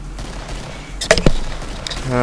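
A 9mm pistol fires in the zombie shooter Killing Floor, a couple of sharp, close cracks in quick succession amid game noise, with a man chattering nearby.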